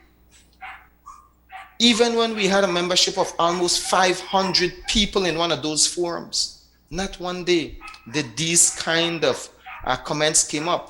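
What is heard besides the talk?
dogs barking in the morning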